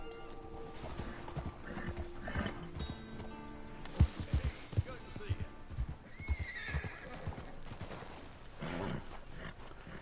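Horse hooves clip-clop in a Red Dead online game, with neighing and whinnying over steady hoofbeats; a person talks intermittently throughout.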